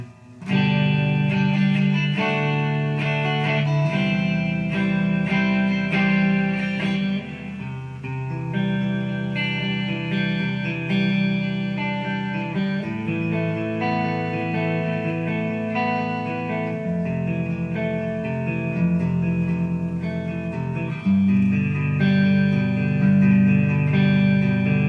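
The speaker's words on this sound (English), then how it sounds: "So that is the clean sound." Clean electric guitar tone played through an all-tube amplifier, sustained chords and melodic notes ringing continuously with natural resonance, loud and close, with no talk.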